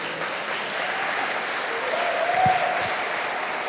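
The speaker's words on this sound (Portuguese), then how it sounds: "Vamos aplaudir aqui o nosso ator" Audience applause at a revival conference church service, a soft, even wash of distant clapping filling the room for a few seconds with a brief low thump near the end.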